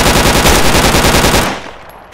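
Machine gun in the military shooter Project Reality firing a rapid, even burst of about twenty loud close shots, then cutting off into a fading echo.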